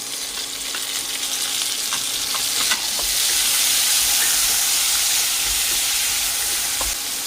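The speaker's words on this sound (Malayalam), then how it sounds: "ഈ തക്കാളിപ്പഴവും എണ്ണക്കകത്ത് കിടന്നൊന്ന് വെന്ത് വരണം." Chopped tomatoes frying in hot oil in a pan over low to medium flame for a chili chutney, a loud steady sizzle with faint stirring scrapes, no voices.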